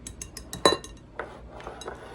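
A spoon mixes flour, spices and leavening into applesauce bread batter in a bowl. It gives a few quick, light clinks against the bowl, with one sharper knock partway through, then softer taps.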